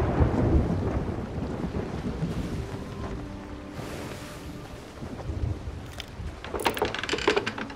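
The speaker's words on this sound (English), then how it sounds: "Right, that storm seems to be moving away." A thunderstorm at sea in the Sea of Thieves video game, a long rolling rumble of thunder with rain and wind noise that fades mid-clip, then swells again with gusty, crackling bursts.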